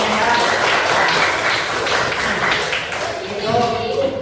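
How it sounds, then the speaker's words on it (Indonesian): A school class claps together for all the groups, a continuous, busy patter of hands filling the room with voices mixed in. "Tepuk tangan buat semua kelompoknya ya."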